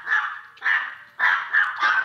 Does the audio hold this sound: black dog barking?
yes